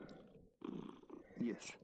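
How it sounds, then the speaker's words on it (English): A cat sitting on a lap purrs with a faint, low rumble, mixed with quiet talking close by. "Happy on my lap and purring right now."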